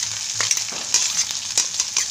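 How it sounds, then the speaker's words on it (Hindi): Chopped green chilies fry in a pan of oil with garlic-ginger paste and cumin for a baingan bharta tadka: a close, continuous sizzle with several sharp spatula scrapes and stirring clatters. "हरी मिर्च डाल दी हमने कटी हुई।"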